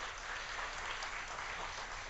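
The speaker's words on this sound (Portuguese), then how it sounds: "Uma salva de palmas para ela agora." An audience applauds a speaker at a book fair opening talk, a steady wash of clapping that is faint and distant and lasts throughout without voices.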